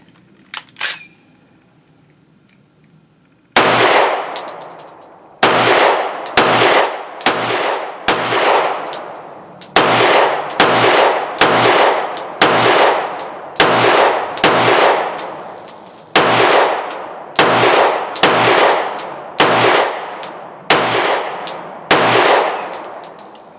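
A Taurus G3 pistol with a 17-round magazine fires a long string of sharp, loud shots, preceded by a brief faint click and then a pause. The shots come in quick bursts with short gaps between them.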